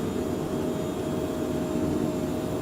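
An aircraft climbs in Microsoft Flight Simulator past 5,000 feet with flaps and gear up, its engines a loud, continuous, even drone throughout, with no voice.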